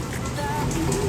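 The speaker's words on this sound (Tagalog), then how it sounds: "Ayan, oh, lakas ng ulan, eh. Ang lakas ng ulan" Heavy rain falls steadily in a dense, continuous hiss on a surface, loud and unbroken across the whole moment, with no voices over it.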